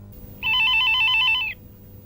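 A telephone rings with one sustained electronic burst, bright and steady, lasting about a second against a quiet indoor background with no voices.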